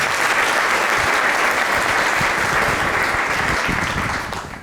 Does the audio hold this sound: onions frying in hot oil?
no